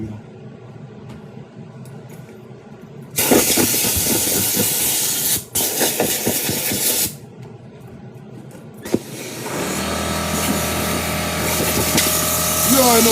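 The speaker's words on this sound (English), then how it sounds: "You paying him money to steam his shoes." A steamer hisses in loud broadband bursts while shoes are being steamed, with a long sustained blast near the middle and a steadier hiss toward the end, amid background voices.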